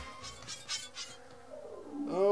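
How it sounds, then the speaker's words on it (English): Bees buzz in the Spelunky video game on Xbox Live Arcade, faint pulsing drones in a few short bursts with no talk. "Oh, the bees."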